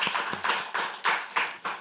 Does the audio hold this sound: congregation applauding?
yes